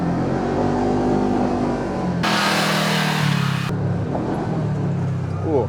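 A Polaris RZR XP side-by-side drives hard down a narrow trail, its engine droning loudly and continuously with shifts in pitch as the throttle changes.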